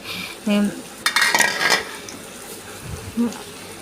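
Egg bhuna cooking in a pan, with clattering spatula scrapes and clinks against the metal dominating the middle, brief tonal beeps at the edges and faint kitchen noise between.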